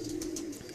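High flyer pigeons coo in a low, steady, sustained tone close by, with no one talking.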